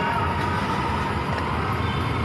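A Manila MRT/LRT metro train on EDSA rumbles past close by, a steady, dense roar with no pauses and no talking.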